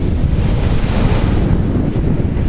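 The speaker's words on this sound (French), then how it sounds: "Elles sont énormes ces vagues. Elles s'éclatent juste au bord" Big ocean waves crash against the beach in a steady, loud roar, with wind buffeting the microphone throughout and no voices.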